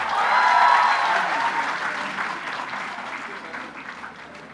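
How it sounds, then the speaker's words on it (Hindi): An audience applauds at a gold medal ceremony for graduating medical students in Peshawar, dense sustained clapping that peaks early and then slowly fades, filling the hall with no voices over it. "बहुत सारी तालियां होनी चाहिए। आपकी तालियां इनकी हौसला अफजाई करेंगी।"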